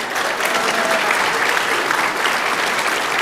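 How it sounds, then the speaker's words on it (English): Audience applause for award winners at the CLCA Awards 2021, a dense, steady wash of clapping from a crowd that holds at an even, loud level throughout with no break. "Let's give these individuals a round of applause."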